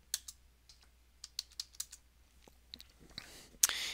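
A terminal command is typed on a computer keyboard: a quick irregular run of faint close key clicks, ending in a louder burst of rapid keystrokes.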